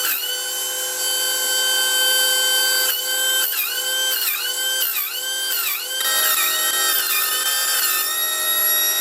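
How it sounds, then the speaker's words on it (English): In a workshop where a collet chuck is being re-ground, an air compressor runs with a loud, steady whining drone rich in overtones, its pitch sagging and recovering several times. "And that's the compressor kicking in."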